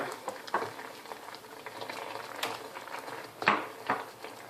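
Prawn curry liquid for a Thai rice and prawn dish bubbles at a low boil in a pot, with soft irregular pops and faint clinks, quiet and close with no talking.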